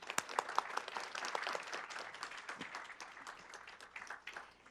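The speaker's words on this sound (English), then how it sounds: "Let's clap for her." Audience at a keynote welcome clapping steadily with scattered individual claps for a few seconds, moderately loud and close, no talking.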